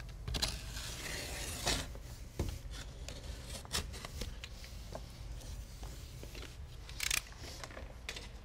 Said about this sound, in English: Take a pair of scissors and pull it back and just